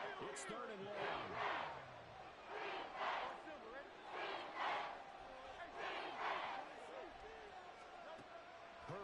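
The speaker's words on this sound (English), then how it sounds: "This crowd turning up the decibel level." Simulated stadium crowd in the Madden 24 football video game, Commanders versus Eagles, roaring and swelling in repeated rhythmic surges of massed voices, a loud continuous crowd bed with pulsing chants rising and falling.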